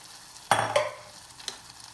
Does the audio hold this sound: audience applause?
no